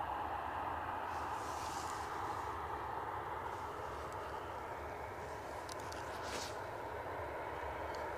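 A British Airways airliner taxis at Edinburgh Airport, heard as a faint, steady distant engine rumble and hiss with no clear change in level.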